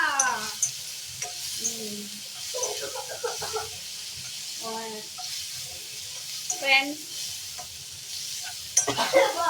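Gongura chutney is stirred as it fries in a pan, with steady sizzling and scraping strokes. Faint voice-like sounds come and go over the cooking.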